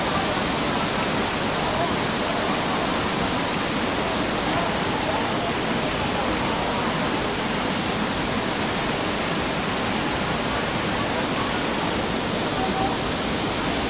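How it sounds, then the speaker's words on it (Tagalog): Imugan Falls in Nueva Vizcaya roars as a steady, loud, broadband rush of falling water with no breaks. "Yan ang falls."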